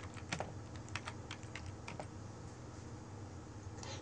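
Computer keyboard being typed on, a quiet, irregular patter of close key clicks in short bursts over faint background hiss, with no voices.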